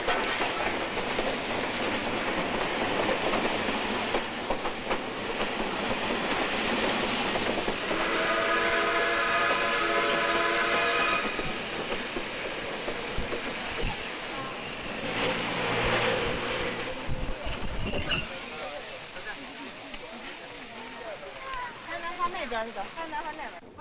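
Train at a railway station platform, with rumbling wagons, clickety-clack and a whistle blast over a busy, noisy scene; an announcer's voice and people's voices are heard throughout.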